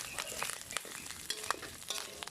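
Onion and garlic sautéing in a pan already holding pork, a steady close sizzle with repeated scraping strokes of a stirring utensil on top.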